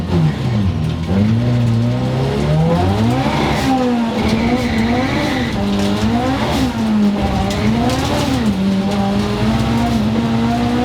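Turbocharged K20-powered rear-wheel-drive EK Honda Civic drifting, its engine rising and falling in repeated surges as the throttle is worked, with tire squeal and a steady loud drone throughout.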